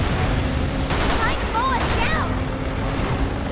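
Gunfire in the video game Resident Evil 6 during a vehicle chase scene, with bursts of shots over constant engine and action noise, alongside whistling effects and game sounds.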